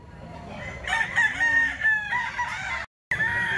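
A rooster crows loudly and close by in one long drawn-out call with clucking around it, over faint background noise.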